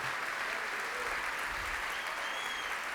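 A church congregation applauds in a loud, sustained burst of clapping that fills the room evenly and continuously, with no speech over it.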